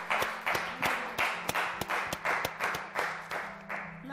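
Audience applause at a televised ATV birthday show, a steady wash of many clapping hands with sharper individual claps standing out in a regular rhythm, fairly loud and continuous throughout.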